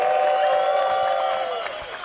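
A large crowd at a disc golf event applauds steadily as a player is introduced, a dense wash of clapping that slowly fades, with a voice over it.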